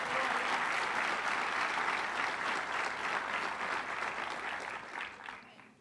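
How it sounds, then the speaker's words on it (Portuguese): A congregation at a church service breaks into loud, full applause, dense clapping mixed with crowd voices that holds strong and then tapers off toward the end. "Aplauda o Senhor Jesus mais uma vez."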